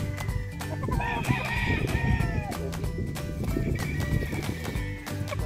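Gamefowl at a game farm, with rooster calls rising over a busy farmyard din of other birds and animal noise, loud and close throughout.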